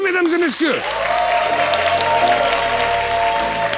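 Audience applause for a guest arriving on stage at a comedy show, a broad clapping wash beneath a host's announcement and sustained musical tones.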